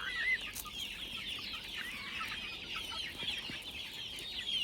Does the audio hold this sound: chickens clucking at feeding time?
yes